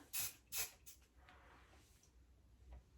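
Hairspray misted onto a lifted section of hair, two short close hissing bursts near the start, then a fainter third puff, with quiet room tone after.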